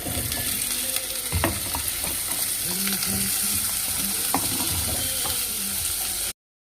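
Cut potatoes and carrots frying in a pan, a loud steady sizzle with repeated clicking scrapes of stirring and a few sharp knocks, cutting off abruptly at the end.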